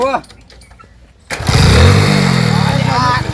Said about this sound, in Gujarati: બાઈક કેમજી ના હાથમાં ચાલુ થાય